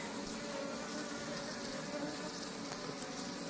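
Honey bees buzz in a dense, steady swarm drone during a honey harvest, a continuous faint hum filling the background without pauses.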